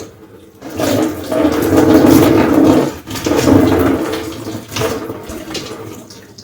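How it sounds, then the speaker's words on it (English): Hot water showered slowly over dreadlocks, a close, loud rushing spray that runs in two long bursts with a brief break between them, then tapers into a shorter final pour. "just slowly shower with the hot water"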